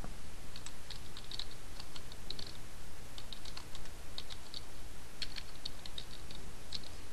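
Someone types a search into a computer keyboard, producing quick irregular clusters of light key clicks close by over a steady background hiss, with no talking.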